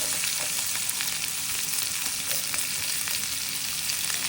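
Potatoes fry in hot oil with cumin seeds, curry leaves, asafoetida and ginger-chili paste, a dense, steady sizzle with faint crackles and stirring, close and continuous with no talking.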